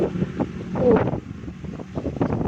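Steady typhoon wind blows and gusts across the microphone in the early morning, producing a low, rumbling buffeting that rises and falls.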